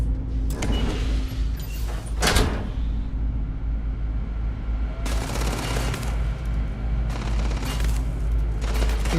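Gunfire in the video game Starfield: short, sharp bursts of shots crack out in separate clusters, first early, then at the midpoint, then a longer rattling volley toward the end, over a constant low engine-like drone.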